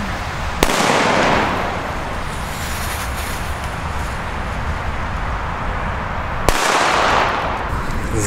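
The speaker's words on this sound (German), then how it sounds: "Jetzt haben wir hier noch eine schöne Titanium Thunder Fontäne, einen Thunder Cracker D in Alpen, in Katan D, ein Dumb Boom Black Edition und Meteorschlag." A Titanium Thunder fountain and firecrackers go off at a New Year's fireworks display: a sharp crack opens a long rushing hiss, and a second sharp bang near the end starts another hissing burst, loud and close.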